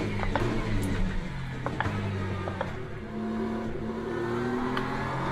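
BMW M4 race car in the Le Mans Ultimate sim racing game at Spa, its engine droning steadily at high revs with shifting pitch and brief gearchange blips, close and continuous throughout.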